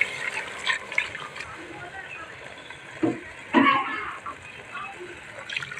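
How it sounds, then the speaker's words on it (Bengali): Hot milk is poured into a cooking pot of rice for rice pudding, giving a short liquid splash and gush midway, fairly close and partly under a voice speaking. "এবারে এখানে দিয়ে দেবো গরম দুধ"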